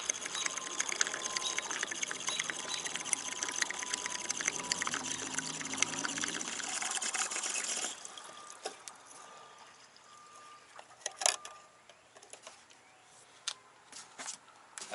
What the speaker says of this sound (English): I'm going to start pouring in.